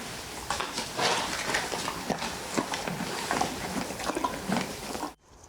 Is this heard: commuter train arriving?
no